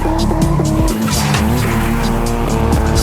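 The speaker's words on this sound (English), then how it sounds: "I have a clip of it drifting out in a place" A Toyota AE86 drifts with loud, sustained tire squeal over a revving engine whose pitch rises and drops repeatedly as it slides, heard up close and with no talk.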